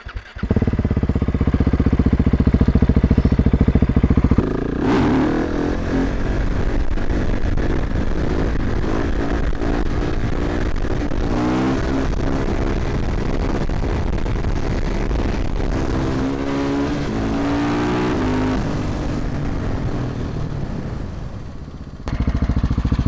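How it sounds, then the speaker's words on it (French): A KTM 1290 Super Duke R motorcycle engine runs loud and close, revving up with rising pitch and rough mechanical rattle for most of the clip before easing off. "Ça fait vraiment un bruit de tracteur cette moto, c'est exagéré"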